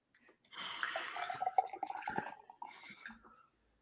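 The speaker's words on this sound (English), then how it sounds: "in this glass I'm going to pour in something I've mixed myself" A homemade mixed drink poured into a glass, close and clear: a gurgling, splashing pour lasting about three seconds that tapers off into a few drips.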